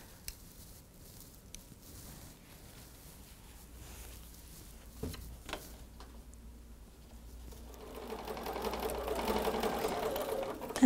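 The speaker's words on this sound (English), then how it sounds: "let's go ahead and take that to the sewing machine and sew that down." A few quiet clicks and handling sounds, then a sewing machine with a dual feed starts up and stitches steadily through quilted fabric, its motor humming and buzzing nearby.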